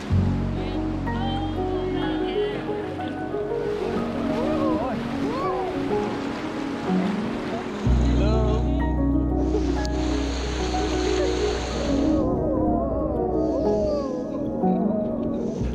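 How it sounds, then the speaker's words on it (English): A raft runs quickly down a river toward Bukit Lawang, with steady rushing water and splashing, a deep rumble that drops out midway and shifts, and voices calling out over the flow. "It was a speedy raft down the river back to Bukit Lawang."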